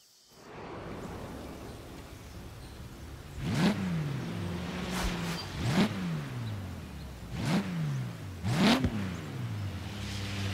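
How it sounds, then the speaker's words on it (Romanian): A tuned Toyota Supra with its stock engine revs in Forza Horizon 3, rising in four sharp, loud bursts that fall away between each, with no talk. "foarte, foarte cunoscutul motor stock de la Supra, care este tunărit la maxim"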